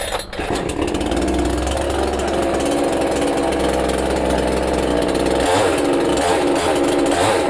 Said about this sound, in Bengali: এখন দেখেন এক টান বা দুই টানে আমাদের মেশিন স্টার্ট হয়ে যাবে